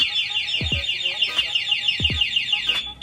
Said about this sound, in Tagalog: Pag may gumalaw, unang attempt, ayan, mag-a-alarm, no?